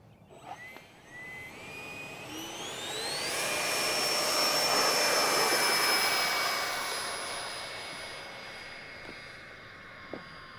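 A scratch-built F4D Skyray radio-controlled jet spools up and takes off, its rising turbine whine climbing in pitch to a loud, steady roar that peaks midway and then slowly fades as it departs.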